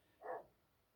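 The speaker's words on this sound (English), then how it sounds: "sorry if you can hear my dogs barking" A single short dog bark at home, muffled and moderately distant, standing alone against quiet room tone.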